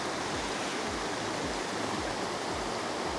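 Wolcott Falls in Connecticut pours on a rainy day, a loud, dense, unbroken rush of falling water close by, filling the scene with no voices.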